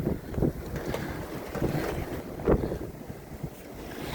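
A sailboat under way at sea, heading out of a bay past a breakwater with the jib partly furled and two reefs in the main, gives a steady wash of wind and water with a few louder gusts or splashes; nobody speaks.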